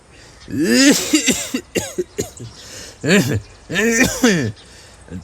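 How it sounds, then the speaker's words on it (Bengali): A storyteller reading a Bengali short story acts out an old man clearing his throat, producing several rough, raspy hacks and coughs in uneven bursts, loud and close. "গলা পরিষ্কার করিয়া বলিলেন"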